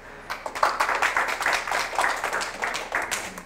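Lecture audience at a police station talk clapping together, a dense, steady patter of many hands that swells and holds for a few seconds at moderate volume, with no voices over it.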